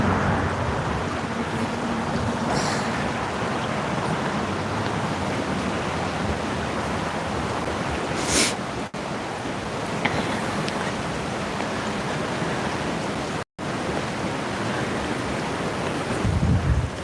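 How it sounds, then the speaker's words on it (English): The Resurrection River flows nearby in a steady, broadband rushing wash, constant and moderately loud, with a few brief bumps and occasional gusts over the water. "you hear the water louder than the wind"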